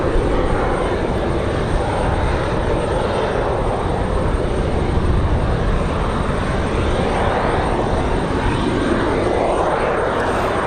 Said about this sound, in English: It is a 737 for Amera East.